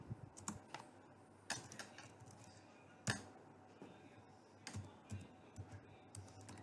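Irregular clicks of typing on a computer keyboard, quiet and close, with uneven bursts of keystrokes and short pauses between them.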